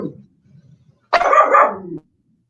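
Nearby, a dog gives one loud, drawn-out bark or yelp after a short stretch of quiet, interrupting a wrestling booking discussion.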